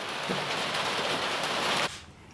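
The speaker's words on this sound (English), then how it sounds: "it's hammering it down with rain" Heavy rain pours down outdoors as a loud, steady hiss of hammering drops that holds for about two seconds and then cuts off abruptly.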